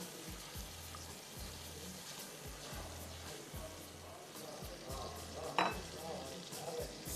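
Ingredients for a mutton trotters dish fry in a pan with a quiet, steady sizzle and a regular rhythm of stirring scrapes.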